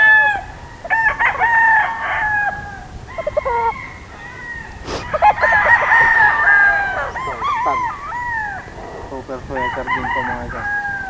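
Several roosters crowing loudly and close together at a gamefowl sale, overlapping calls repeating every second or two, with hens clucking and a few people talking in the background.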